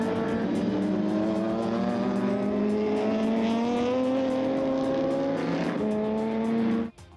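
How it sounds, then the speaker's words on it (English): A lead race car roars past at night, its engine loud and steady with harmonics rising as it accelerates, then cut off abruptly near the end. "Up into Leocorp comes the lead car, lights ablaze as the darkness sets in."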